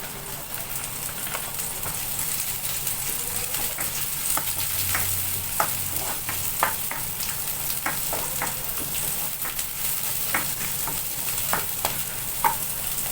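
Onions sautéing in a hot pan with chili and garlic nearby, a continuous close sizzle broken by scattered sharp crackles and the scrape of stirring, with no voices.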